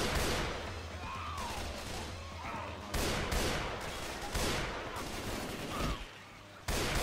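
Rifle fire and battle noise from the zombie co-op shooter Left 4 Dead 2 make a dense, continuous stream of shots at steady loudness, with no speech.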